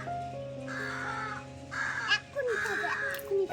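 Crows caw loudly and nearby outdoors in the morning, giving about four harsh calls in irregular bursts over a faint steady background hum.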